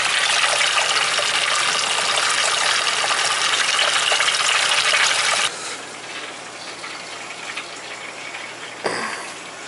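Water gushes hard and steadily from a hydronic heating line as air is purged after a winterized house is refilled, then drops to a quieter, softer flow partway through, with a brief knock near the end.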